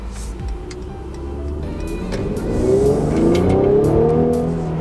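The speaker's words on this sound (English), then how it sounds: "exhaust sound is incredible in this car, in this AMG" A 2018 Mercedes-AMG GLC 43 4MATIC SUV drives along, its engine and exhaust rising in a steady rumbling pull as it accelerates, heard from inside the cabin, loud and continuous with faint ticking over it.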